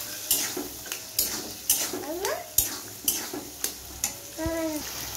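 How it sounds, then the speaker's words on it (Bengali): A spatula scrapes and clanks through boiled peas for ghugni in a pan, the stirring strikes coming in a steady, repeated rhythm at close range with faint sizzling underneath. "ভালো করে নাড়িয়ে নেবো"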